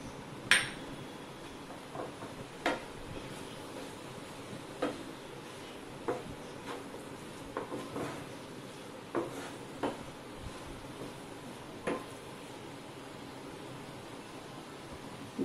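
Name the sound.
stirring onion bhaji mixture with gram flour in a pan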